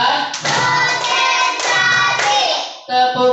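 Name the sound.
classroom clapping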